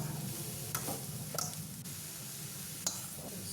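Salted vegetable momo filling is stirred by hand in a bowl, giving a steady close wet rustling and squishing with a few sharp ticks of utensil against the bowl.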